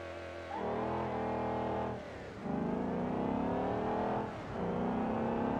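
A car engine with a stage 2 supercharger in the driving game BeamNG.drive revs hard and loud, climbing in pitch through a gear, dipping briefly, then surging again twice with steady whirring harmonics.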